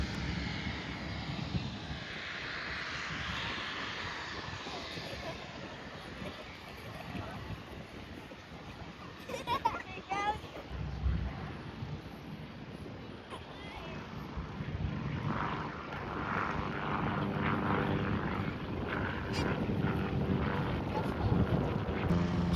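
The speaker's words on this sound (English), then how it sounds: "Here's a Royal Flying Doctor Service Pilatus PC-12." A Royal Flying Doctor Service Pilatus PC-12 turboprop at an airport, its engine drone rising and shifting as it passes at moderate distance, with a steady roar building toward the end.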